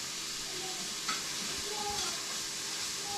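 Onions sautéing in a pan while lasagne is being made, a constant steady sizzle and hiss with a faint tap or two, close by and without speech.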